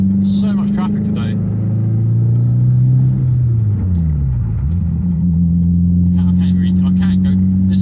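A Renault Clio RS 172 drives in heavy traffic, its engine a steady droning hum that dips and rises as revs change, with someone talking over it at the start and end.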